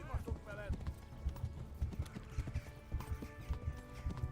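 A horse gallops steadily in Kingdom Come: Deliverance, with rhythmic hoofbeats throughout and a whinny near the start, under talk.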